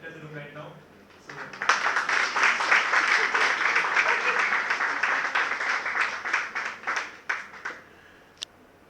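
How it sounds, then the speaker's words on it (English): Audience applause in a college auditorium at a Toastmasters club event as the principal enters, dense sustained clapping building after a quiet start and tapering off toward the end. "Round of applause for the principal, Dr. Jaswinder Kaur ma'am, who is entering the room right now."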